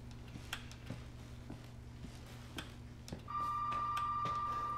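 A telephone in Resident Evil 7 rings with repeated sharp bell-like pulses over a steady low hum, joined near the end by a sustained electronic tone. The sound is moderate and fairly distant, with no one talking.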